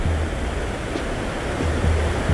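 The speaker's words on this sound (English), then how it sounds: "Look at these beautiful waves." Pacific Ocean waves wash steadily along the Mazatlán boardwalk seafront, a loud continuous roar of surf with low swells rising and falling, with no talking.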